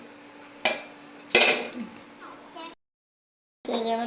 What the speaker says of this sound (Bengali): এবার আমি ঢাকনা দিয়ে ঢেকে দেবো।